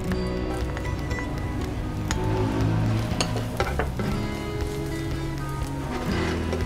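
Garlic sizzling steadily in a pan for Kapampangan-style fried rice, a close, dense crackle with scattered sharp pops and a little stirring, with no talking.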